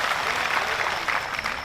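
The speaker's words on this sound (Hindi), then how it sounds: "ये वो जान के चक्कर में ताली बजा रहे हैं।" An audience applauding at a Hindi poetry stage event, a dense, even wash of clapping from many hands, continuous and fairly loud for the whole stretch.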